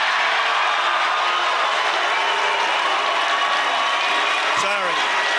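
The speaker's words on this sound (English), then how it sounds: "That was some serious booing." Crowd at a Ron Paul political event booing loudly, a dense, sustained roar of voices filling the whole stretch with no letup.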